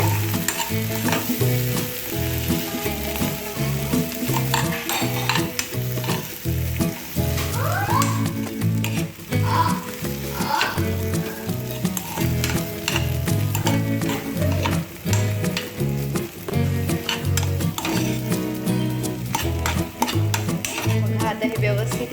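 A spice mixture being stirred in a frying pan, loud close sizzling with repeated scraping and clinking of a spoon against the pan in quick, uneven strokes, set over steady background music.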